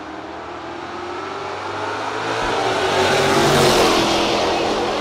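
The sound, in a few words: Ford Mustang and Chevrolet Camaro drag racing launch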